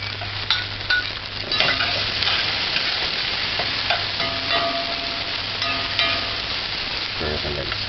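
Garlic frying in a pan for stewed sardine with sweet corn. A steady, loud sizzle runs throughout, with scraping and clinking as it is stirred.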